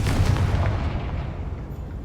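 A Confringo spell explosion in the video game Hogwarts Legacy, a deep heavy boom that rumbles loudly and then fades away over about two seconds.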